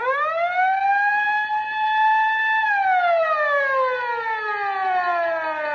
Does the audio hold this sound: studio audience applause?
no